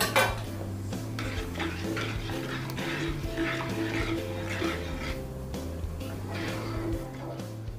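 A utensil scrapes and clinks against a pot in repeated stirring strokes as chocolate pudding is cooked to a boil, close by, over a low steady hum with faint background music.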